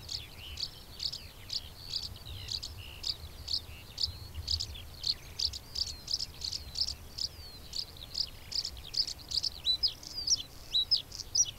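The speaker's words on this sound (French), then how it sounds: "La gorge bleue, quant à elle, continue de chanter et même de parader." A bluethroat sings in a rapeseed field, a long run of quick, bright, repeated chirping phrases rising and falling in steady bursts, moderately close over a quiet low background hum.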